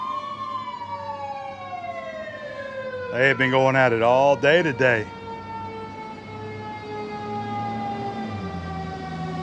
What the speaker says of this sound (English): The fire truck coming by.